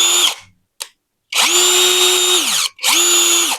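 A brushless cordless drill whirs close by in short bursts: a brief rev, a tiny blip, then two long high-pitched runs that spin up and wind down.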